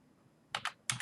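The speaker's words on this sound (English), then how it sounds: "So we are typing" Keys on a computer keyboard are tapped during entry of an Amazon Linux EC2 login command, in a quiet room: a pair of quick clicks followed by another close pair, crisp and near.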